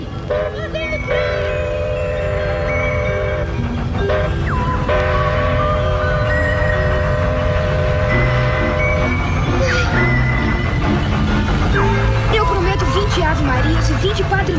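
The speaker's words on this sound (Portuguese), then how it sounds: "Lá vem o trem." Train approaching in a 1989 Brazilian film, its horn sounding in long sustained blasts over rumbling rail noise, loud and close, with voices and other film sound mixed in.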